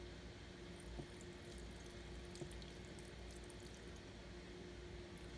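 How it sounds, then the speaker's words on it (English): Cashew soaking water being poured from a container into a kitchen sink, a steady, continuous running and trickling of liquid at close range, fairly quiet and unbroken throughout, with no talking. "And then I'm going to pour the water out in the sink,"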